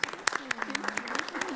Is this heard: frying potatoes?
no